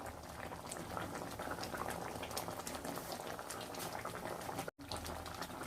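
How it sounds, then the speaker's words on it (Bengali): Mustard prawn curry (shorshe chingri) bubbling in a pan, a dense continuous simmer of small pops and gurgles, close and even, with one brief dropout near the end. "সুন্দর ফুটে উঠেছে।"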